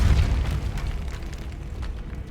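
A Depulso force spell in Hogwarts Legacy, a single heavy blast with a low rumbling boom that decays over a couple of seconds.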